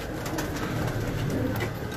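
Pigeons coo softly and steadily at a Karachi pigeon keeper's loft, a low continuous murmur with faint flutters over a constant background hum.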